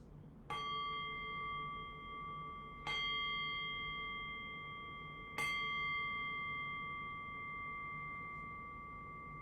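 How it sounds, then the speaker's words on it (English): A meditation bell struck three times at even intervals, each a clear, ringing tone that sustains and slowly fades, alone in a quiet room. "I'll cue that by ringing the bell 3 times."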